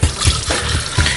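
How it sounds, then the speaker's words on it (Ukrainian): Water poured into a clay pot for cooking potatoes, a steady close trickling and splashing with pulsing surges over about a second, no voices. "Цей горщик ми наповняємо водою."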